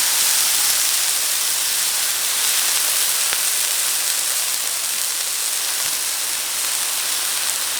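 Food sizzles and steams loudly in an overly hot pan on a van stove during solo winter camping in Colorado's San Juan Mountains, a continuous dense hiss throughout.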